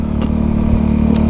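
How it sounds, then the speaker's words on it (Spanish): A motorcycle engine hums steadily and close after shifting into third gear, a loud mid-pitched drone with slight revving as it gradually speeds up. "vamos a subir a tercera y vas a ver que la moto gradualmente va un poquito más rápido"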